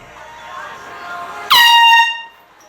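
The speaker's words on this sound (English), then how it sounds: "Okay, air horn time." A single loud air horn blast cuts in sharply over a quiet room hum, holds for about half a second, then fades.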